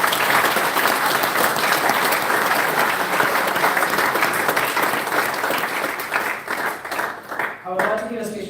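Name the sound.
audience applause at club prize giving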